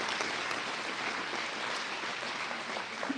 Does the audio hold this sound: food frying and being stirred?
no